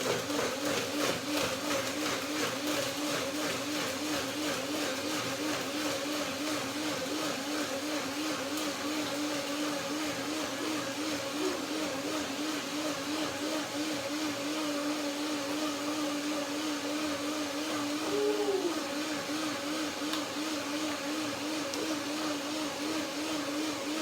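A blender whirs steadily for a long stretch blending fruit, banana, almond and granola, a constant loud motor drone with a slight wobble, close by and uninterrupted.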